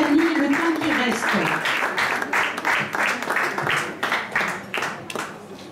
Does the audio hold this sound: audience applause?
yes